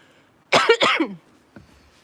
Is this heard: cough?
yes